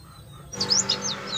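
A white-eye (pleci) songbird gives a quick run of bright, high chirps and trills, close and clear, after a short quiet start.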